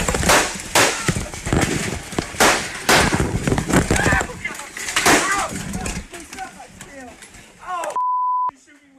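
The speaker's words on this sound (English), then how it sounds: "The gunfire would go on for several seconds, and then the connection was interrupted." Rapid bursts of gunfire at a livestreamed video game tournament, sharp repeated cracks over several seconds under voices, thinning out before a steady electronic beep tone cuts in near the end.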